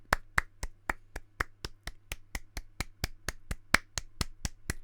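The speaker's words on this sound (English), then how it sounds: "Is everyone clapping?" A single person claps steadily and close by, about twenty sharp hand claps in an even rhythm over a faint low hum, with no talk.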